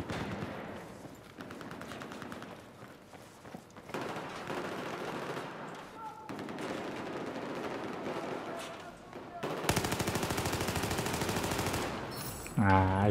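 Automatic rifle fire in Battlefield 4 on PS4, repeated rattling bursts throughout at moderate level mixed with game noise, ending in a denser, louder stretch of shots, with someone talking over parts of it.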